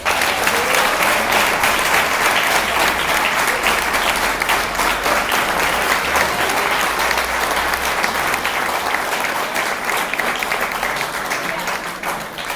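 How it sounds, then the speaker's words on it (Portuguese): Sustained, dense applause from a large church conference congregation fills the whole stretch, loud and even throughout, with a faint hum of voices beneath and a slight fade toward the end. "Um aplauso a Jesus."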